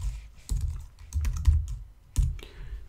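Light typing on a computer keyboard while entering a login during an iOS app tutorial, a quiet, uneven patter of soft key clicks with short gaps, close and without talk.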